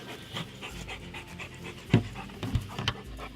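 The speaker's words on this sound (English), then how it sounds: "We have a happy dog that is wanting to help." A happy dog pants steadily at close range beside an RV during electrical work, quick rhythmic breaths with a few sharper huffs, alone without talk.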